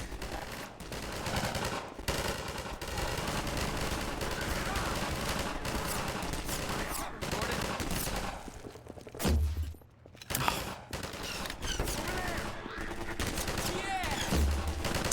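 Enemy gunfire in Half-Life 2 VR: dense, continuous machine-gun bursts and scattered shots roar through most of the stretch, pausing briefly near the middle before resuming loud and close.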